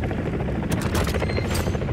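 An attack helicopter in Call of Duty: Modern Warfare 3 gives a steady rotor drone, with scattered gunfire and impacts rattling over it throughout.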